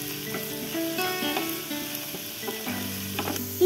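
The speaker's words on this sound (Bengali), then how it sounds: "পেঁয়াজটা দিয়ে দিয়েছি, এবারে এটাকে ব্রাউন কালার করে ভেজে নেব।" Onions fry in a pan until brown for a Bengali dhaba-style egg tadka, giving a close, steady sizzle with occasional stirring scrapes and faint tonal music underneath.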